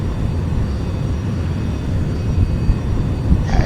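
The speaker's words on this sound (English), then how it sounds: "so the plane starts moving" Boeing 747 rolling down the runway for takeoff in the X-Plane 11 flight simulator, a steady loud low engine roar that holds throughout with a slight swell near the end.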